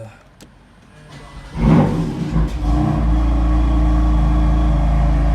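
A BMW M4 GTS or Jaguar F-Type SVR sports car engine cranks and fires up, revving loudly before settling into a steady, deep idle rumble close by.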